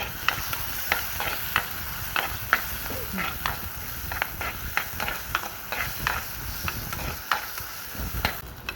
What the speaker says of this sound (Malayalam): തക്കാളി എടുക്കാൻ തന്നെ നന്നായിട്ടൊന്ന് വഴറ്റി കൊടുക്കാം